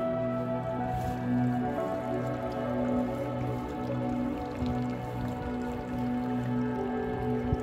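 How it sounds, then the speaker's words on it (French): Spring water dripping and trickling near a small grotto in the Swiss mountains around Grande Dixence, a soft, steady wet patter with no talking. "Eau de source."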